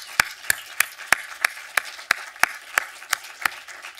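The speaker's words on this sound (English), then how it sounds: "So if we can get a round of applause for both of them right now" Audience at a film screening applauding for James Benning and Steve Anker, heard as a few sharp, evenly spaced claps fairly close by over a quiet background.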